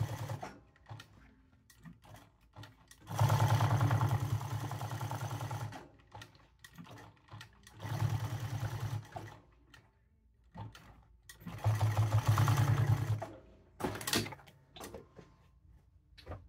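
Sewing machine overstitching leather patches onto hats runs in three loud bursts of rapid, even stitching, with quieter pauses and small handling clicks between them.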